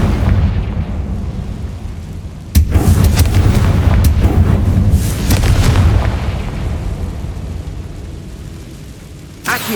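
A Confringo blasting spell goes off in the Hogwarts Legacy video game with a sudden loud explosive boom, followed by several seconds of rumbling blast noise that fades toward the end, where a brief second burst sounds.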